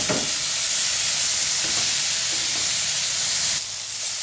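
Pasta being stirred in a pan for white sauce pasta, giving a steady loud hiss and sizzle throughout with faint scraping of the stirring utensil.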